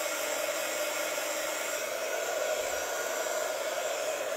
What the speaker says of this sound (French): Je fais chauffer mon pistolet chauffant